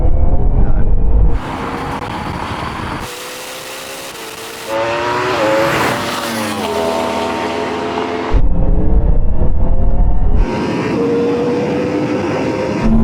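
A Yamaha R1M superbike, a Porsche Taycan Turbo GT and a Ferrari SF90 drag race, giving loud passing roars with rising engine pitch and abrupt changes as each machine sweeps by, close and intense with no talk.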